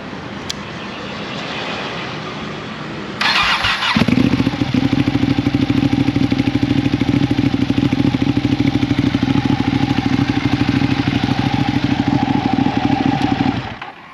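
A Ducati Panigale 959 sportbike with a clear clutch cranks briefly, then fires up and settles into a loud, steady, lumpy idle close by, running on without any talk.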